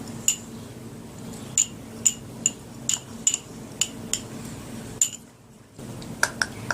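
A spoon mixes a turmeric face mask in a bowl with a steady series of sharp, light clinks roughly every half second, close and clear over a quiet background, pausing briefly before resuming with no talking.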